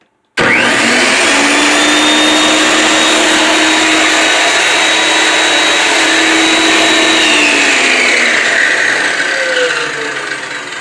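A loud, steady whine of a Diamondback 10-inch wet tile saw motor runs continuously for several seconds, close by, easing slightly at the end.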